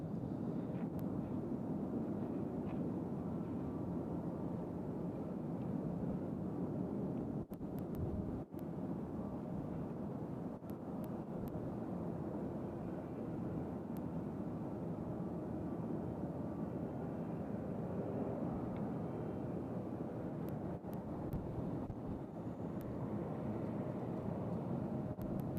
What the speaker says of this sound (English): Got another Southwest coming in.